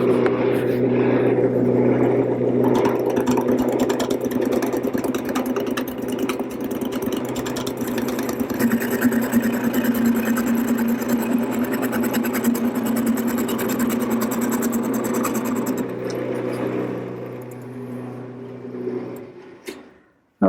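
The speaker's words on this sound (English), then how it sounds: "The first thing to do is to round over the center part to the maximum diameter using my gouge." Wood lathe spinning a table leg blank while a gouge rounds over its center section, a steady close motor hum with broad cutting noise for about seventeen seconds before the machine winds down and stops.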